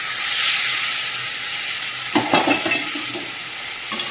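Bombay duck fish dropped into a pan of frying spice paste with salt, turmeric and Kashmiri chilli gives a steady loud sizzle, broken by a few stirring scrapes partway through.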